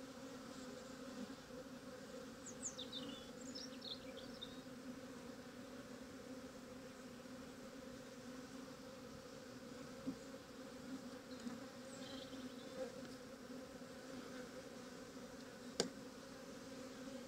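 A steady, low hum of many honeybees buzzing close by as they are shaken into a hive, continuous and fairly quiet, with a few faint higher whines and a single small tap.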